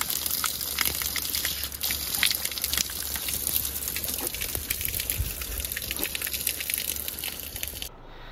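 Cold water flows and gushes steadily along a mountain roadside in the Cordillera, with a constant broadband rush and small splashes, close and fairly loud, ending abruptly.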